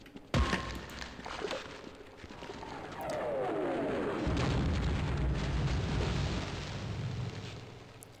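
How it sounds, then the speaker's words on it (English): Airstrike explosions in the Half-Life video game: a sharp, loud blast followed a few seconds later by another heavy boom that settles into a long, rumbling roar lasting several seconds. "And there's yet another airstrike."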